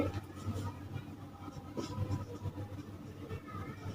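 Handwriting during a Hindi geometry lesson, a steady soft scratching of pen or pencil on paper carrying on throughout, with a low background hum and no talk.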